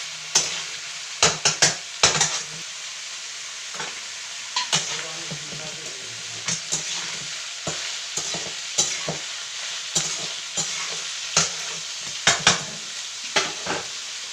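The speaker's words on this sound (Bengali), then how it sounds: "এবার মটরশুঁটি দিয়ে দিলাম। সেগুলো ফ্রাই হচ্ছে অল্প আঁচে।" Green peas and soaked soybeans frying on a low flame in a pan, sharp spoon scrapes and knocks recurring every second or so over a continuous sizzle, close up with no speech.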